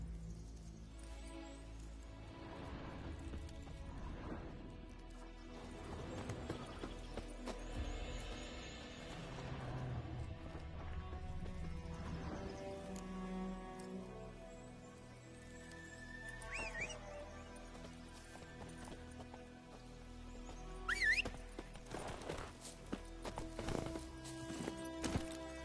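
Roach, the horse in The Witcher 3, runs with steady rhythmic hoofbeats, a brief whinny and scattered game effects layered over a continuous music and ambience bed, with no talking.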